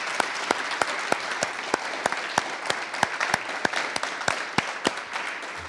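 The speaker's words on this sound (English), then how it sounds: "I want to give them a round of applause." Audience applause at a graduation ceremony, a steady crowd clapping with distinct sharp claps standing out, continuous for several seconds without speech.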